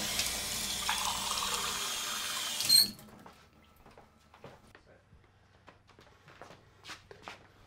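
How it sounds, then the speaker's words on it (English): Tap water runs loudly into a glass for a few seconds and then shuts off, followed by quiet footsteps and shuffling with people talking softly in the room. "Heidi, get him a glass of water"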